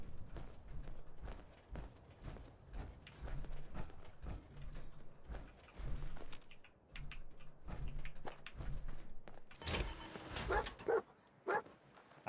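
Dogmeat, the companion dog in Fallout 4, barks repeatedly over game sounds, with short rhythmic barks through most of the stretch and a burst of louder noise near the end.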